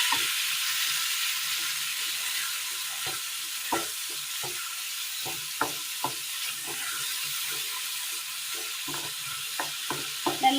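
Ground spice paste hits a hot pan for an ash gourd curry, bringing a steady close sizzle and hiss broken by repeated scraping stirs of a spoon against the pan.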